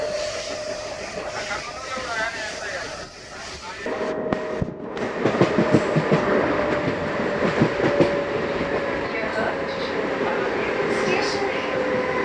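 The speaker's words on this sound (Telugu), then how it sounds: "హెప్సూర్ నుంచి మన ట్రైన్ బయలుదేరింది" A MEMU passenger train on the Hubli to Guntakal line rumbles steadily from inside a carriage, the noise swelling partway through with rhythmic clatter and a hissing, rushing wash as it pulls away from a station.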